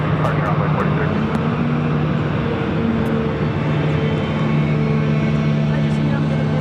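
Airliner engine droning steadily at Phoenix Sky Harbor airport, a continuous low hum with tonal lines, loud and sustained, with faint radio-style voices underneath.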